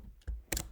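Quick taps on a computer keyboard during a coding session, two or three distinct clicks in under a second, close and crisp against a quiet room.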